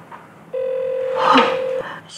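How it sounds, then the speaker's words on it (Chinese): A telephone gives a single steady electronic ring tone lasting about a second, close and clear, with voices faintly around it. "林慧杰，紧接电话。"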